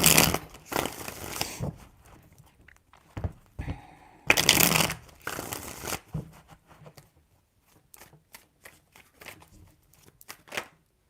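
Tarot cards are shuffled in several quick bursts, riffling swishes and soft flicks separated by short pauses, close and dry, with no voices.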